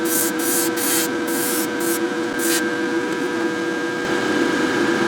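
A pressure pot spray gun lays a light coat of paint at a station upgrade, giving a steady, loud, close hiss that runs continuously, interrupted by short bursts of brighter spraying.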